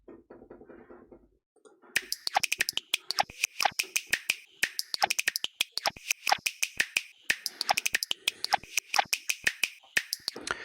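After a short muffled bit, rapid finger snaps processed through Shaperbox fire in crisp rhythmic bursts, bright and stuttering, like a chopped-up beat.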